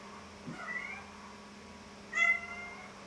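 A cat meows twice, a soft mewing call followed after a pause by a louder, higher meow, both close over a low steady hum.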